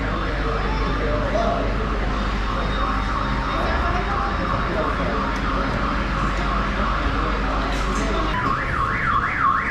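A building alarm going off outdoors on a city street, a loud continuous electronic wail that rises and falls steadily throughout, with faint traffic and street noise beneath it.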